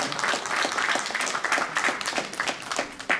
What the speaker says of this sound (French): on peut les applaudir, justement.